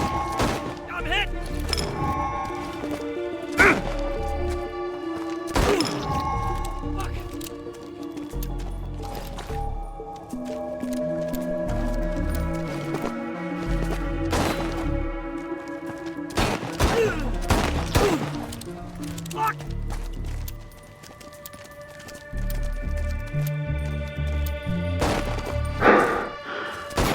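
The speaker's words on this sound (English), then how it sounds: "Nice shooting, Cole. You scored some good hits in the arena." Gunfire in the Chernobylite 2 video game, scattered loud shots and crashing impacts over several bursts, mixed with game voices and a music bed.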